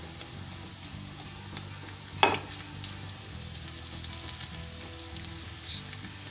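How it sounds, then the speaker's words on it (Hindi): Crispy potatoes fry in a pan over medium-high heat, a close steady sizzle with one sharp scrape as a spoon breaks them up, plus a few faint clicks. "हमें मीडियम टू हाई फ्लेम पे ही फ्राई करना है।"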